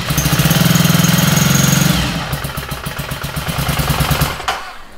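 Ducati motorcycle fitted with a Termignoni exhaust, a loud close rapid-firing bark held steady, then dropping into a choppier, uneven idle pulse with a few sharp blips before easing off.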